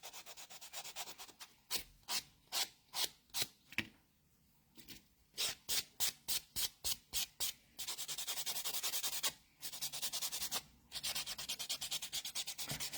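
Nails coated in dip powder buffed with a file, giving rapid rhythmic bursts of dry scratchy rubbing, close up, alternating with longer continuous sanding passes.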